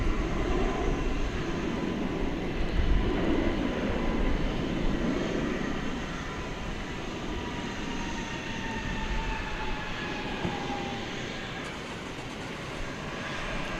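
A jet airliner at DFW Airport roars steadily at moderate distance, a broad sustained engine rumble that swells early and then eases without fading away; no one talks.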